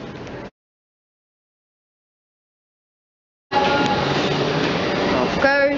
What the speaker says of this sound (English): Off goes this class 459 to Waterloo.